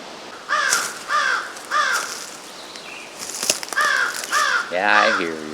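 A crow caws loudly and nearby in a series of harsh, evenly spaced calls, pausing briefly, then calling again with a longer final caw amid outdoor rustling.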